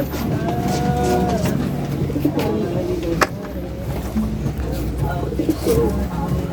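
Low pigeon coos repeat over a busy, noisy background of other animal calls and faint voices, with a sharp knock partway through.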